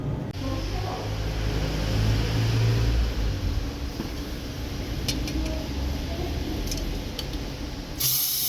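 A long continuous hiss of brake cleaner aerosol sprayed close by during a 1.3 Multijet timing chain job, steady for several seconds before cutting off near the end.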